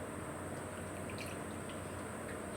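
Faint, steady trickle of water being tipped into a container, a soft continuous pouring wash with small drips, heard alone without talk.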